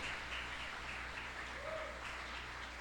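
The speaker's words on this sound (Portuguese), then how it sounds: "A igreja pode aplaudir o Senhor Jesus, querido" A church congregation applauds during a family worship service, a continuous even patter of many hands at moderate, slightly distant level, with no talk over it.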